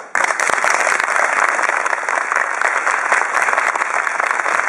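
Loud, dense applause from a large crowd at a rally celebrating the 40th anniversary of Okinawa's reversal to Japan, sustained and steady after an abrupt start.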